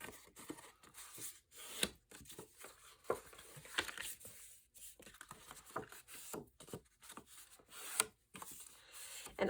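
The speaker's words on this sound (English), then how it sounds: "And then just fold these flaps in." Soft rubbing, creasing and scraping as scored half-inch flaps of charcoal cardstock are folded in by hand, a close, quiet sequence of irregular papery rustles and presses.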